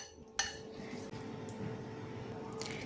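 A spoon stirs okra with curd in a pan, giving a continuous soft, wet scraping and squishing with an occasional light metallic clink, close and steady with no talk.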